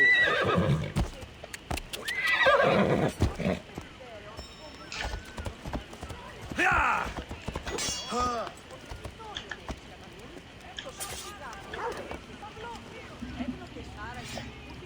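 A horse whinnies and hooves clop in a video game over game music and effects, with a voice talking through much of it.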